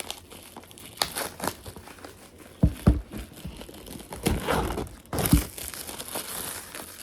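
Plastic wrapping crinkles and tears as it is peeled off a Pop Mart box during an unboxing, a close, busy rustle with sharper crackling bursts throughout.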